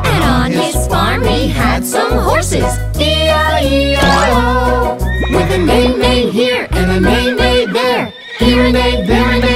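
Singing voices over bouncy music imitate a horse's neigh with wavering, whinny-like cries in a cheerful children's song.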